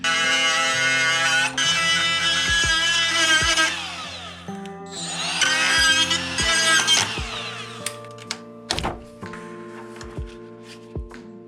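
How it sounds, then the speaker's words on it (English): A titanium burr bit in a high-pitched rotary tool grinds off an intercooler pipe collar, a loud shrill whine in long bursts that winds down, followed by scattered metallic clinks and taps. "I'm gonna use a burr bit, a titanium burr bit, and just bzzz it off"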